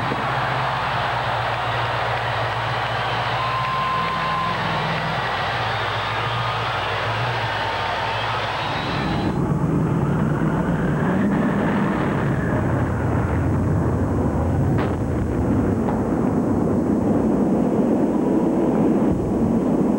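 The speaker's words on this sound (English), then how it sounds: "you enjoy the amazing power of America's number one monster truck, Bigfoot" Bigfoot, a monster truck, roars through a performance with a loud, steady engine drone that shifts character partway through and keeps rumbling to the end.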